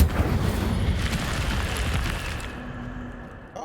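Incendio fire spell cast in Hogwarts Legacy, a loud roaring whoosh of flame bursting and crackling for a few seconds before cutting off abruptly.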